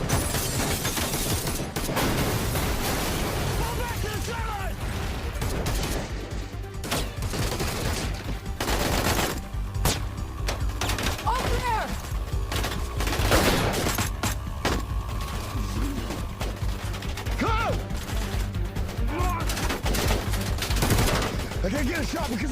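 Heavy machine-gun fire, including a .50 caliber, in a tense action scene with an explosion, sounding as dense, continuous bursts over a steady roar, with voices speaking briefly over the shooting.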